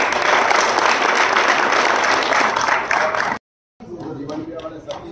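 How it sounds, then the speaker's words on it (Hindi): Loud, dense crowd applause from an audience at a rural political appointment gathering, sustained for several seconds, then cut off abruptly before quieter clapping and crowd noise resume. "तो एक बार जोरदार ताली मंच के"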